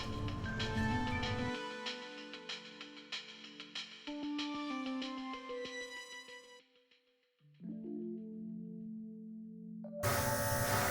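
A cordless air compressor with an airbrush whines with shifting electric tones that rise, dip and resume, then ends in a sudden broad burst of spray hiss.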